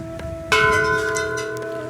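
Church bells ring out with a sudden strong onset and long sustained, overlapping tones over distant city murmur, with no talking.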